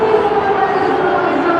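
Roar of a huge stadium crowd of close to 120,000 at a cricket match, a dense sustained din of voices, broad and distant-sounding, with a commentator speaking over it.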